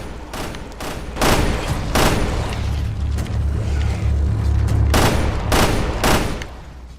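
Bursts of rapid gunfire from a Resident Evil: Revelations 2 shootout, loud and close, several volleys with brief pauses between them over a low rumbling background.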